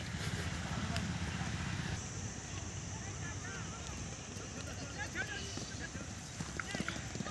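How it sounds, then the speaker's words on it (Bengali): A horse gallops at speed during horse training by a fish pond, its hooves drumming a quick, even clip-clop rhythm against a constant outdoor background, with voices faintly audible. "অনেকটা স্পিড নিয়ে আসছে ঘোড়াটা"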